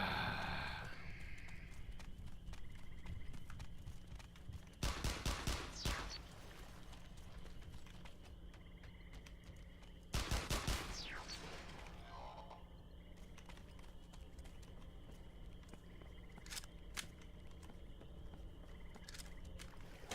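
Gunfire in the video game Interstellar Marines: two separate sharp reports about five seconds apart, each with a brief tail, over a quiet ambient game backdrop with a few faint clicks.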